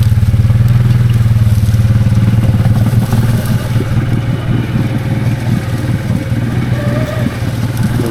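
Can-Am Outlander XMR 700 ATV engine churning loudly through thick swamp weeds and sawgrass, a steady low rumble with clattering and sloshing as the tires turn slowly.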